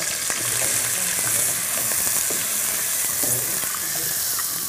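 Cumin, green chilies and onion pieces frying in hot oil in a restaurant kitchen, a loud steady sizzle with scattered clinks and scrapes of stirring, close and continuous with no talk.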